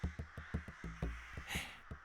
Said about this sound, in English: Wings flapping. Overhead. The crows. They're coming for me.